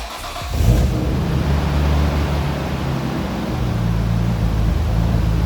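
A Toyota MR2 with a misfire starts up and then idles roughly nearby. The engine is loud and uneven throughout, with a slight rise in revs toward the end.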